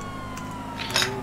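A police car siren in GTA Online gives a brief, steady wailing tone, sounding clearly for just over a second with a short burst of noise near the end.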